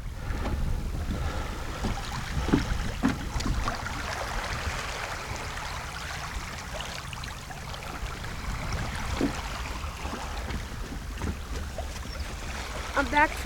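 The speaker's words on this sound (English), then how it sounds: "Just listen to that water." Cold Lake Superior water washes against the shore near Point Iroquois Lighthouse in Chippewa County, a continuous rushing wash with gusty wind noise over the microphone.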